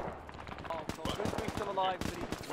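Machine gun fire from a tank gun in a video game, a rattling burst of close, punchy rounds with voices talking over the shooting and low rumbling behind.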